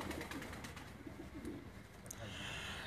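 Pigeons coo faintly and continuously at a pigeon keeper's loft, under steady low background noise.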